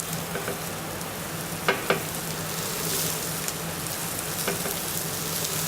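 Carrots fry in hot olive oil in a pan, giving a steady crackling sizzle with a couple of sharp utensil taps and light stirring throughout.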